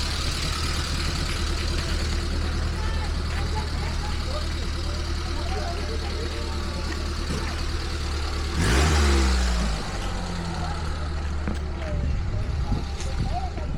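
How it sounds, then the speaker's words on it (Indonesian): Cars idle and rev near a ferry dock, a steady engine drone with one nearby vehicle accelerating past midway, while people talk throughout. "Ini kayaknya mobil-mobil yang bakalan naik juga"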